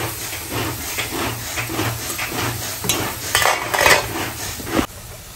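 Vegetables sautéing in a pan, steadily stirred with a utensil scraping and clinking against the metal, over a soft continuous sizzle, ending in a brief quiet tail.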